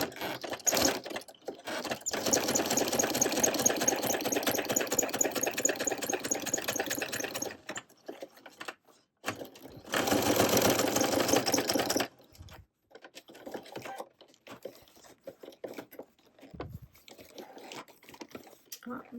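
A sewing machine top-stitching a leather clutch purse runs in two long, fast, rattling bursts close by, separated by a pause, followed by quieter handling noises and a few clicks.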